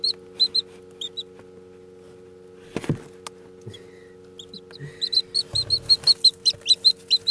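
Young chicks peep in short high chirps, sparse at first then a quick run of repeated cheeps, over a steady low electrical hum with a couple of thumps and handling noises.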